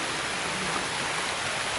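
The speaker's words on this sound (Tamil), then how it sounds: "வெட்டி இறக்குற நேரம் பார்த்து மழை வந்துடுச்சு மழை தூருதுங்க" Steady drizzle falling outdoors in a bee-keeping garden, a soft, even hiss of rain filling the whole moment with no gaps or distinct drops.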